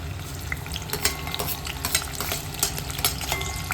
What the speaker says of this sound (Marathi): आता ताई टाकते कांदा,